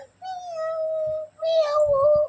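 A voice imitates a cat's meow twice, drawn-out mewing calls close to the microphone, followed by a few soft breathy sounds.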